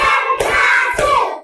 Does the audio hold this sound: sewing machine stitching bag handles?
no